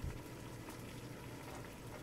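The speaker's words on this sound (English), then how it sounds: "Got the water boiling." Water at a steady rolling boil in a pot for instant yuzu ramen, a continuous close bubbling and hissing texture with no talk over it.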